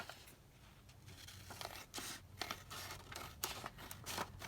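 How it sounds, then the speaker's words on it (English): Paper for a craft project is cut with scissors, a faint close series of crisp snips and rustles in an irregular rhythm over quiet background hiss. "I'm going to cut this down here."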